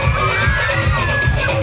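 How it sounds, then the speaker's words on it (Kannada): Cheering and applause from a school crowd, with children shouting, honouring an Urdu high school in Athani as it takes first place at an award ceremony; a dense, steady roar of hands and voices runs throughout. "ನಿಮ್ಮೆಲ್ಲರ ಜೋರಾದ ಪ್ರೋತ್ಸಾಹಕರ ಚಪ್ಪಾಳೆ"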